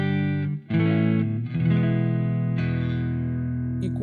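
Clean electric guitar tone with no fuzz pedal engaged, sustained ringing chords with a brief dip before a new strum and another change near the end, close and steady.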